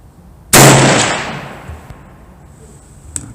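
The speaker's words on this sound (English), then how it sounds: "And I'm going to be shooting at 25 yards with open sight." A single loud, sharp report from a Browning BLR lever-action rifle in .358 Winchester fired at 25 yards outdoors, with a long decaying echo afterward.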